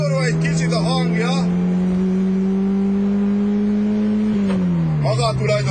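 Fiat X1/9 sports car engine revving and holding a steady high drone that swells slightly, then drops as revs fall near the end, with voices talking over the start and finish.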